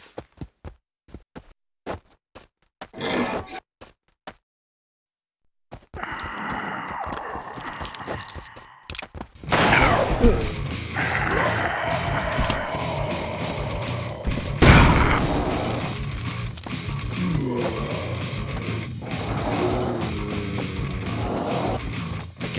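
Several booming gunshots in a stop-motion zombie animation, heard as separate loud impacts amid clattering effects and rumbling ambience, with a sharp, prominent blast near the middle.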